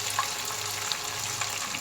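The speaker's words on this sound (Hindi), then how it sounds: "अब हम इसमें थोड़ा सा पानी डालेंगे ताकि प्याज और ज़्यादा रंग कलर डार्क ना हो।" Water is poured into a pan of frying onions, a steady rushing hiss mixed with sizzling and a few small pops, heard close up without talk.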